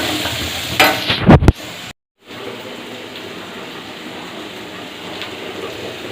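Chopped onions with salt frying in a pan for potato kurma: a burst of clattering and rattling stirring, then a brief gap, followed by a steady, close sizzle that continues evenly to the end.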